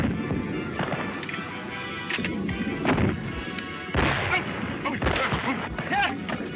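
Gunshots in a 1931 western film: several sharp, loud cracks at irregular intervals over a crackly, noisy old soundtrack.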